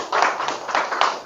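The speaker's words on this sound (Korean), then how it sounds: "박수 한번 부탁드릴게요" Audience applause at a Korean leadership lecture concert, a brief burst of hand clapping from a seated crowd, fairly close and steady for about a second with no talk over it.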